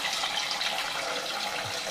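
Water from a tap runs steadily into a cooking pot at close range, a constant rushing splash lasting just under two seconds, with no voices over it.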